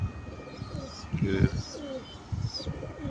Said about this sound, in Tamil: எல்லாம் அடி அடிச்சு பறகுற புறா தான்